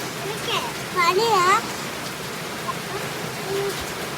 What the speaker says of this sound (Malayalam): കേട്ടില്ല മഴ കാരണം